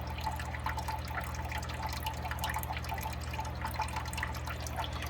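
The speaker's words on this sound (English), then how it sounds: "this drips and creates oxygen just from the drip" Water drips continuously into a fish tank housing multis shell dwellers, a busy stream of small splashes and trickles over a low steady hum, fairly quiet.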